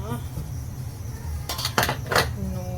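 Ingredients being mixed in a dish with metal utensils, a few sharp clinks and scrapes clustered near the end, quiet and close, over a low room background with a voice heard faintly at the start and end.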